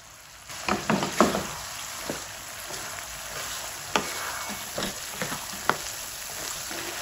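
Potatoes go into a hot karahi for a restaurant-style mixed vegetable dish, giving a steady oily frying hiss broken by scattered sharp clatters of stirring and spatula knocks, close and moderately loud, with no talking.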